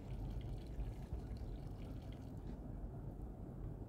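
Water is poured into a pot of drained, soaked wheat being cooked for an Ashura dessert, giving a steady, soft, continuous splashing wash that lasts several seconds with no talking.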